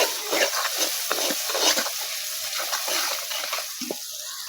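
Masala with ginger garlic powder stirred in a pan for fish shorba, giving a steady scraping and soft sizzling texture with repeated spoon strokes, close and moderately loud, no talking.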